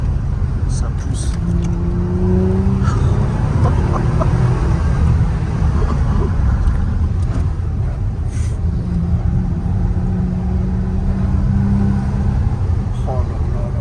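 An Audi RS5 with an ABT kit accelerating, a rising, revving drone and strong road rumble heard from inside the car, with voices talking over it.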